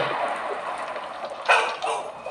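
Two short dog barks near the end of the clip, over a dense, noisy soundtrack of the Pocong horror mod game.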